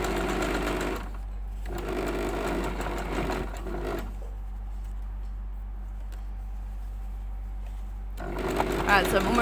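A sewing machine stitches straps in loud, close bursts of rapid mechanical whirring, stopping briefly twice before running again, with a reverse stitch finishing the seam.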